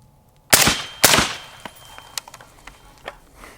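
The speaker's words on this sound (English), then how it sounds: "Let's shoot some rocks real quick so you can see how quiet that is." Two sharp, close suppressed rifle shots ring out at rocks, followed by smaller ticks and pings of impacts and debris spread over the next few seconds.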